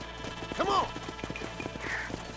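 Horse hooves clip-clop in a steady rhythm in the Red Dead Redemption video game, with a brief whinny-like call and a voice speaking over the moderate, close hoofbeats.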